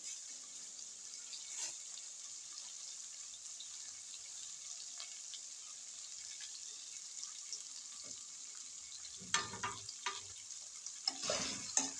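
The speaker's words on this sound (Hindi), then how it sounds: "यहाँ पे हम डाल देंगे हरी मिर्चें।" Green chillies are added to fried onion, ginger and garlic in a karahi, giving a faint, steady sizzle with occasional stirring scrapes and clatter near the end.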